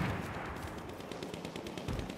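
Rapid gunfire in the video game Battlefield 1, a fairly quiet, continuous stream of quick shots with a dense, rattling texture throughout.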